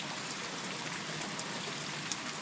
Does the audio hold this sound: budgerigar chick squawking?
no